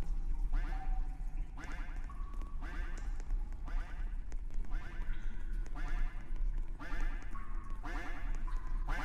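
A duck quacks in the Roblox obby game, repeating short nasal quacks about once a second over a constant low hum.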